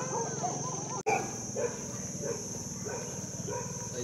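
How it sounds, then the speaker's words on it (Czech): Dogs lounging near a temple bark and yip in short bursts at moderate distance, with a brief cut in the sound early on and faint voices in the background. "Okay, so and these are the dogs."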